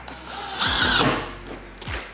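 A power drill drives dome-headed self-tapping screws into a cast campervan awning bracket: a short motor whine rising and settling over about half a second, then a brief second burst near the end, close and fairly loud.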